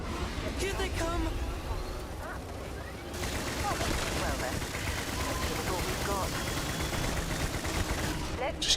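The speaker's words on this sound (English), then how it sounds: "Just keep shooting." Rapid, continuous gunfire crackles in a busy sci-fi combat scene from the space game Starfield, dense volleys of shots layered with game noise and ambience, while a player talks over the action.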